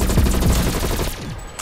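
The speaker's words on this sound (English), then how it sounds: "I'm liking this sacrifice gun." Rapid automatic gunfire from the sacrifice gun in Call of Duty, a loud, dense burst of shots for about a second before it cuts off.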